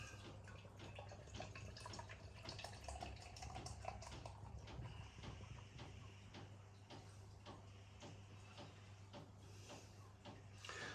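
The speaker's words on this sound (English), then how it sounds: "I must get up on that roof and sort out that drip" Water dripping from a leaking roof, heard indoors as faint, repeated ticking drops at a fairly regular pace over a low background hum.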